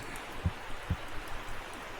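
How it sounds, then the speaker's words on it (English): Steady soft rain falling, a faint continuous hiss with a couple of dull low thumps, no voices. "It's raining."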